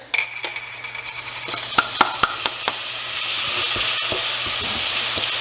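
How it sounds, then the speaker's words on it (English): Tomato sauce poured into a hot pan and stirred, with a few sharp clunks and scrapes of a utensil over a rising, steady hiss and sizzle that fills the second half, close and fairly loud. "Now we're going to add the tomato sauce. Cooking tomato sauce."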